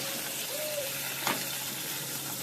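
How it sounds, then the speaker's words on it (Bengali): Cauliflower florets frying in mustard oil in a wok, a dense continuous hiss of sizzling at moderate loudness with a brief stir near the end. "এই যে দেখতে পাচ্ছ, ফুলকপিটা ভেজে নিচ্ছি প্রথমে।"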